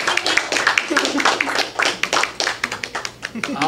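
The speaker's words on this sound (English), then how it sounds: "Clap it up for her." Audience at an open mic night at a café gallery clapping for a performer, a brisk burst of steady applause close by, mixed with some voices.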